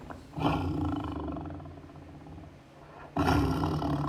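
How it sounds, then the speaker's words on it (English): A tiger roars twice, loud and close, with a long rumbling first roar fading into a quieter growl before a second powerful roar bursts in. "Its roar can be heard up to 3 kilometers away."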